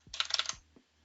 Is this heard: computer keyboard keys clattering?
yes